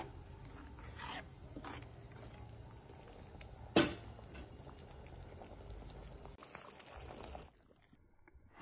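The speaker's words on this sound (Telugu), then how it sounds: "ఒక 2 నిమిషాలు ఉడికితే సరిపోతుంది." Spinach and raw mango dal bubbling softly in a pot, a faint steady simmer of small pops and gurgles with one brief clatter midway before the sound drops off near the end.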